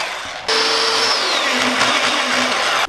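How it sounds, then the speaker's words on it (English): A 1970s electric drill whirs loudly at close range for a couple of seconds, its motor pitch shifting as it bites into a mini truck's metal grill for a pilot hole, then cuts off. "we're just gonna drill a pilot hole into the grill"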